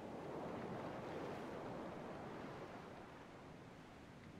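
Heavy ocean waves wash against a wooden ship in a frozen Antarctic sea, a steady, broad roar of surf and wind that swells slightly and then eases, with no other sounds over it.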